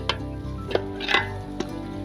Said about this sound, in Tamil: மட்டன் ஆட் பண்ணி எல்லாத்தையும் மிக்ஸ் பண்ணி விட்டுக்கலாம்.